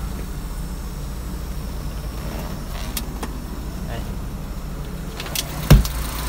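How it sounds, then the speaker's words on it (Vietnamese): The original petrol engine of a 2016 Dongben 800kg closed-box truck idles with a quiet, steady low hum, and a brief knock is heard near the end. "động cơ máy xăng rất là im luôn"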